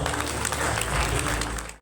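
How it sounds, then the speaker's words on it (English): A conference audience in Islamabad applauds a panel steadily, dense clapping that holds for a couple of seconds and then cuts off abruptly. "a round of applause, please, for our panel"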